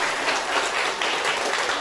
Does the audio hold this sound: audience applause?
yes